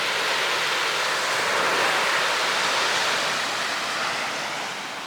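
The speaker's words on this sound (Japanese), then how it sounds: "ただ波の音が 鳴ってる" Ocean waves wash steadily onto a seaside shore, a dense, continuous hiss of surf that swells slightly and then eases toward the end, with no voices.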